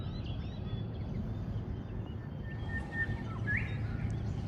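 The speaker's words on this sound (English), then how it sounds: "Yep, birds singing, birds flying everywhere." Birds chirping and calling in the morning beside a creek lined with houseboats, scattered thin tweets rising over a steady low rumble of water and background noise, with no talking.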